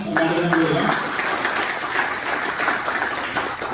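Audience clapping at a business pinning ceremony, a steady dense wash of applause, with a voice talking over it briefly at the start.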